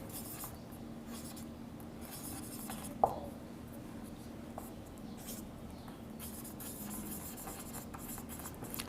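Pen scratches across paper while a business letter is written by hand, a soft, steady scraping under a faint room hum, with one sharper tap near the middle.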